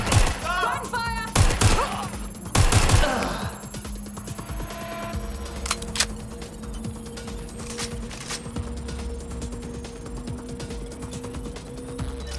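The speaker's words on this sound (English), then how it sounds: "Gunfire!" Bursts of rapid gunfire in Watch Dogs: Legion, sharp crackling volleys early on, then mechanical clicks and ringing tones over a low hum.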